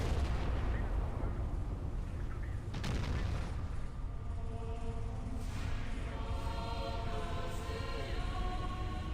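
Naval gunfire from the warship video game Battleship Command: a dull, rumbling wash of distant cannon booms with one sharper blast partway through, continuous and fairly muffled with no clear talking.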